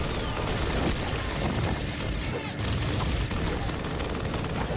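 Gears of War gunfire keeps up a dense, continuous rattle of automatic weapons with occasional heavier bangs, steady and fairly loud throughout, and brief voice callouts blend into the battle.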